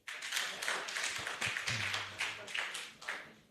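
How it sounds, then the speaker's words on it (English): An audience claps at a state pharmacists' annual general meeting and scientific conference, a steady patter of applause running for several seconds that stays fairly close and even, with a brief low hum partway through. "you can clap if you want"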